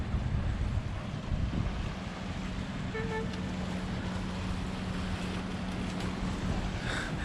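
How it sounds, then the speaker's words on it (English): A boat approaches across the sea off Hora Sfakion, Crete, coming from Loutro, its low engine drone steady and distant beneath constant wind buffeting the microphone and surf along the shore. "There is a boat coming from Lutro,"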